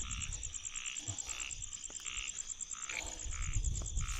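Frogs croak steadily in a rainy Lao or Thai forest, a dense chorus of repeated calls with a constant high insect-like trill above and rain hiss beneath, close and continuous with no voices.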